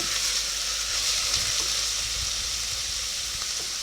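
Onions fry in a pan for a lentil and kumara curry, making a close, continuous hissing sizzle with small pops and a few low bumps of stirring.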